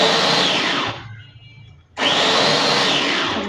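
Electric hand blender whirring loudly as it beats oil into homemade mayonnaise, two steady bursts of motor noise separated by a brief pause about a second long.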